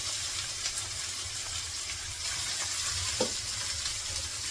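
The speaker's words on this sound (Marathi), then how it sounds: "जे कांदे कापून ठेवले पहिले हे परतून घ्यायचे" Chopped onions sautéing in a pan after cumin, a close, constant hissing sizzle with faint stirring clinks and no voices.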